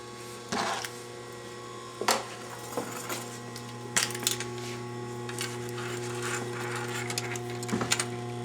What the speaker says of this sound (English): And now we will stitch that seam.